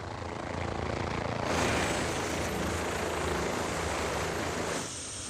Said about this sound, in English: a helicopter ferries in a very important part of the lodge's history